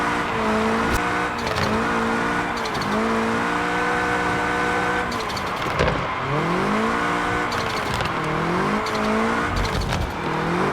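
A car drifts in the mobile game Car Parking Multiplayer 2, its engine droning and revving up and down in steady sweeps while tires squeal and screech through repeated slides, loud and continuous.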